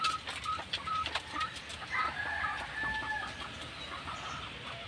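Broiler chickens cluck and chatter on a farm as a close, busy flock. Short overlapping calls rise over a steady murmur of birds.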